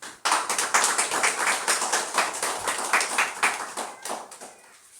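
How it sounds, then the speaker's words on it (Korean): Church congregation clapping in welcome during a Sunday service, a rhythmic run of fairly quick, distinct claps from a modest group, steady for several seconds before tapering off near the end. "우리 나오실 때 박수로 한번 환영해 드리겠습니다."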